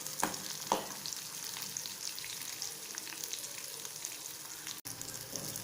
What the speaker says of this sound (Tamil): போட்டு மிளகா கொஞ்சம், கருவேப்பிலையும் கொஞ்சம் பொரியட்டும்.